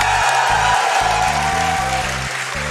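A live crowd at a Games Done Quick speedrunning event claps and cheers in a steady wash of applause, mixed under loud game music.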